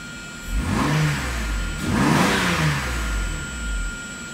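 A Mercedes R129 SL600, back running after a year of repair from crash damage, revs up twice in quick succession, each rise swelling and falling back toward idle, loud and close with no voices.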